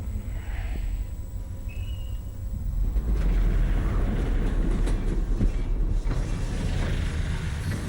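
A train in Half-Life: Alyx rolls along with a deep rumble and metallic creaks and clacks. It starts quieter, then builds to a steady, loud, close rolling noise with no talking.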